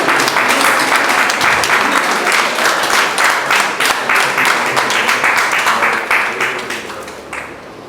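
Loud, sustained applause from a large audience at a book launch in a hall, many hands clapping together, tapering off and fading toward the end.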